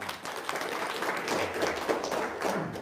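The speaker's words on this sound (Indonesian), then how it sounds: "Sip, tepuk tangan dong." An audience at an indoor gathering breaks into a short burst of scattered hand clapping, fairly soft and steady for a few seconds.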